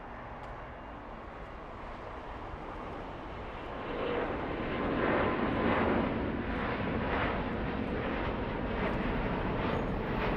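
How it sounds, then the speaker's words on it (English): Turkish Airlines Airbus A350 jet flying overhead, a broad roar that swells after a few seconds and holds steady, moderately distant. "Let's go for Turkish, the A350 flying back"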